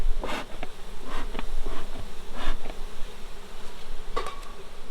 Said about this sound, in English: All over the bottom, there are bees.